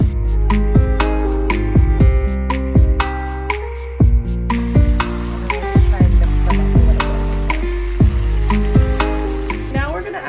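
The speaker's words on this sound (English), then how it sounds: "So now that the onions are cooking, we're gonna add the potatoes so those can start cooking as well" Onions and potatoes frying in a pan give a steady sizzle running under prominent background music with plucked, decaying notes, and no one speaks.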